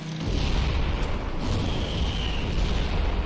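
Continuous rumbling barrage of supercharged mortar explosions in the Hot Wheels: Beat That racing game, loud and dense with a steady low boom filling the whole stretch.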